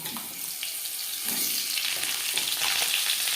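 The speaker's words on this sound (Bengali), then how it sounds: "পাঁচফোড়ন তেজপাতা ভেজে নেওয়ার পর দিয়ে দেবো আলু" Potatoes frying in hot oil with panch phoron and torn bay leaf in a Bengal-style pan, a steady loud hiss and crackle throughout with faint stirring scrapes.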